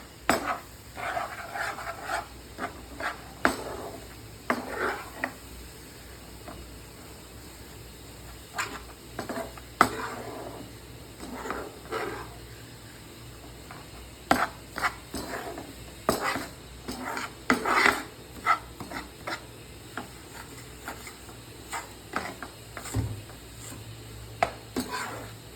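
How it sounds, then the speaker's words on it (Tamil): Semolina stirred and dry-roasted in a pan over a low flame, with soft intermittent scraping and rustling strokes of a spoon against the pan throughout, fairly quiet and close. "இந்த ரவை பச்சை வாசனை போகிற அளவுக்கு வறுக்கணும்."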